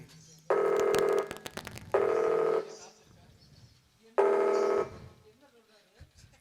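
A phone call in progress: three loud, long electronic ringback tones sound at even intervals, with softer clicks and brief voices in the gaps between them.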